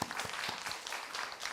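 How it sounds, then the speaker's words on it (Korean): A seminar audience at a church claps for an elder, a brief patter of many hands heard at modest volume from across the room. "다시 한번 우리 장로님께 박수하겠습니다"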